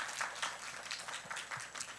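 Middle-school church congregation at a Friday service applauding the student worship band, a steady patter of clapping from a large room, fairly faint and diffuse throughout.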